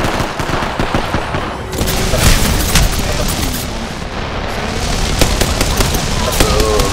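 Gunfire in an Apex Legends arena match: rapid bursts of automatic shots and heavy impacts crowd the whole stretch, loud and close, with game effects layered between volleys.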